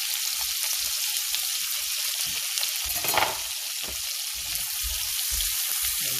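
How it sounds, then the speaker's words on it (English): Chopped onion and garlic frying in a pan with cumin already sizzling, giving a steady close sizzle and crackle with soft stirring thumps throughout. "I'm going to put in the chopped onion. And also the chopped garlic."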